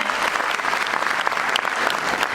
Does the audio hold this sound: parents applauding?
yes